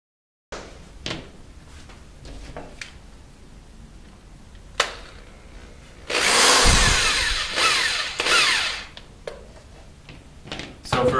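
Power drill driving a row of screws into the rubber soles of shoes for winter running traction, heard as short bursts of whirring separated by pauses, with one longer, louder run of drilling partway through.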